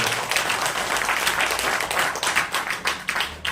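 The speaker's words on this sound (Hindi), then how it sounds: "और जोरदार तालियां" Audience applause at a direct-selling wellness company event, a dense continuous wash of many hands clapping at steady loudness with no speech.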